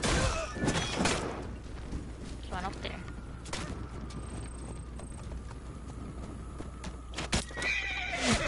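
Horse in the Assassin's Creed Origins video game neighs loudly near the start, followed by clip-clopping hooves and scattered impacts and gunfire-like bursts, with game ambience under someone speaking.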